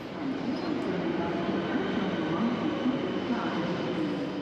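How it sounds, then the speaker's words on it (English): A metro train rumbles steadily close by, a continuous low roar of wheels on rails with faint squeals, heard from platform 13 as it pulls in. "Waiting on platform 13 for my metro train down to Frankston."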